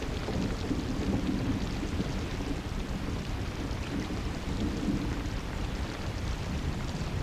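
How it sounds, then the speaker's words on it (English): Steady heavy rain pours down continuously in Australia's Channel Country, a dense broadband wash with low rumbling underneath, with no voices at all. "There's been so much rain here in the Channel Country"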